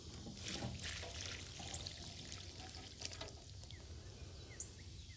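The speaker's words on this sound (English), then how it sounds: "We'll just give it some water and see." Water trickling and pouring onto plants in a garden trough, a soft, fairly faint splashing stream with small drips, heard alone outdoors.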